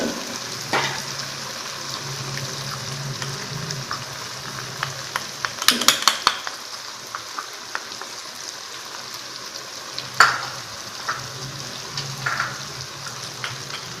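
Cumin, coriander and turmeric fry in a pan, a soft steady sizzle with scattered pops and a few louder clattering stirs of a spoon against the pan.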